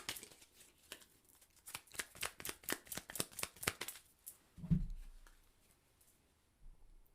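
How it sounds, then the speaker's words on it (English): Tarot cards are riffled in a quick run of crisp, close flutters, then a single card is drawn and set down with a soft thud before quiet. "let me pull a clarifying card for that"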